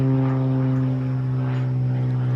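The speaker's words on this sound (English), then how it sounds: "Sorry about the airplane." A propeller airplane drones loudly and steadily overhead above a Minnesota garden in September, a low, constant engine hum with no talking.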